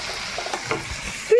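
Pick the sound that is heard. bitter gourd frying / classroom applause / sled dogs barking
bitter gourd frying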